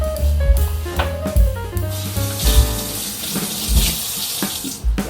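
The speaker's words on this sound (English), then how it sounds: "Get my hands cleaned up." Water runs steadily from a kitchen tap as hands are washed while baking lemon bars, close and loud, with splashing and rubbing and no talk.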